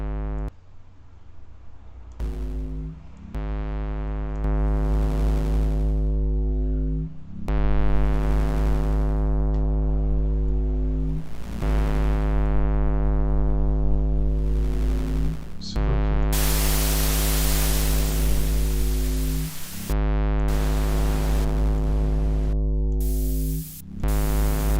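A modular synthesizer drones with a buzzy harmonic tone while its noise source cuts in as repeated hissy bursts, one long wash of static in the middle, steady and fairly loud with no talking.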